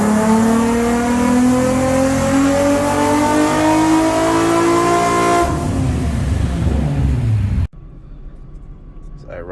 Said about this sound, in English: Every single time I rev it, it works.